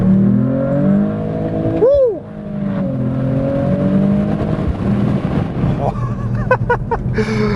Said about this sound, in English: it's got the sound of that fuel bursting through the engine